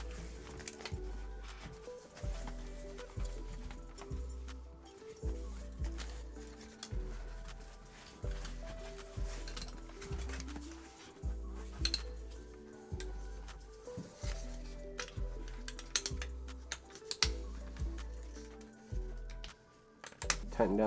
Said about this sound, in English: Tighten down the harness.